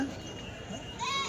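Goats bleat briefly amid the crowd at the Tuesday sheep and goat market in Kadiri, one short call rising near the end over steady background voices.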